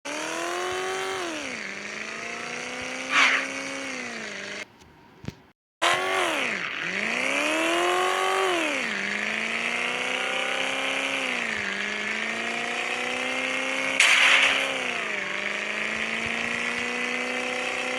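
Motorbike engine from the mobile game Moto Rider Go: Highway Traffic, a loud continuous revving whine that sweeps up and down with each acceleration and gear change, cutting out briefly partway through, with no talking.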